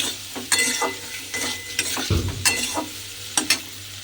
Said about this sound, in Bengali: কচুগুলো আমি এর মধ্যে দিয়ে দিলাম। দিয়ে মশলার সঙ্গে খুব ভালোভাবে কচুগুলো একটু কষিয়ে নিতে হবে